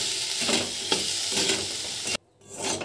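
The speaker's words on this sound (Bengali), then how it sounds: "বেগুন ভাজা হয়ে গেছে, নিম পাতা দিচ্ছি।" Neem leaves stirred into fried eggplant in a pan produce a loud, close sizzle with rhythmic stirring scrapes; it cuts out abruptly, then returns faintly.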